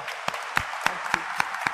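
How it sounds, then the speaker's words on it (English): Applause for a priest at a daily Mass in Manila Cathedral: a short patter of clapping from a congregation, with a few sharper individual claps standing out at a steady pace over a soft wash. "Let us give Father a round of applause."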